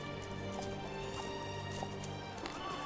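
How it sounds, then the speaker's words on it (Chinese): Horses in a mythic Journey to the West drama scene, a steady clatter of hooves with occasional whinnies from a mounted crowd, continuous and moderately close behind a dense background. "我好像听到人喊马嘶"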